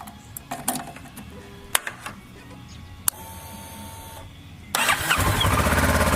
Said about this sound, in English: let me crank it up right quick and see what it sounds like